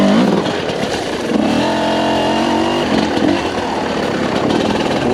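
A 2022 TM EN 300 Fi dirt bike engine lugs along in second gear, a loud, close two-stroke drone that rises and falls gently in pitch with no talking.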